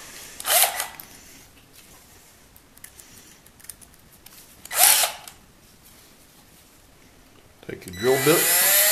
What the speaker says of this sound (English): Chuck that up in your drill.